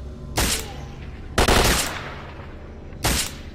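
Gunfire in the STALKER: Call of Pripyat video game, three loud bursts of rapid automatic fire spaced about a second apart over a steady low background hum.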